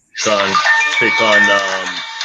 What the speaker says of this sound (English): That's your phone, Aaron?